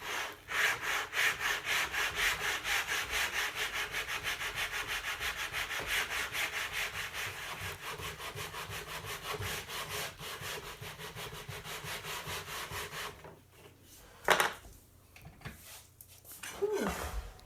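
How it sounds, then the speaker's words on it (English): Sanding blocks rubbed over the wooden top of an acoustic guitar being rebuilt, a steady rhythmic back-and-forth scraping in quick strokes, close and clear, then stopping near the end with a few scattered knocks and handling sounds. "Then use sanding blocks."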